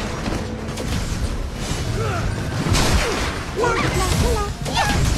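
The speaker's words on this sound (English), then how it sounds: "Your team has destroyed a turret." Honor of Kings game action during a turret kill: busy mechanical clanks, creaks and crashing impacts with sweeping effects, mixed with an announcer's voice and background music.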